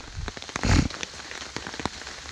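Rain patters on a small tent during a bicycle wild camping trip, scattered drops tapping the fabric nearby, with a brief louder rustle early on and otherwise soft, irregular hits.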